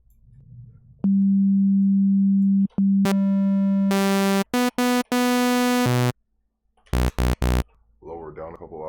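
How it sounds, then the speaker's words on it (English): A pure sine tone from the Serum 2 synthesizer in FL Studio holds steady, then steps through higher pitches in short bursts separated by silences, followed by brief speech. "basically all you need is a sine wave"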